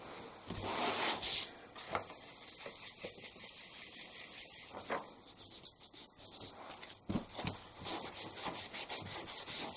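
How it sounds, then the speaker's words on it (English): Book spine edges are distressed with uneven, scratchy rubbing and scraping strokes, some in quick bursts and others slower, close and fairly quiet with no talking. "let's do some more distressing on the edges, more of the edges of the spines"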